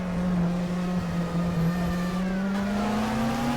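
A race car engine in a racing video game holds a steady, loud drone that climbs slowly in pitch as it accelerates through a lap. It runs continuously, with no talk over it.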